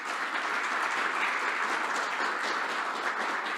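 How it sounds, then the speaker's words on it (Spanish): A church congregation applauds steadily, a dense, even wash of clapping from many hands that holds for several seconds at moderate volume without talk. "le demos un fuerte aplauso"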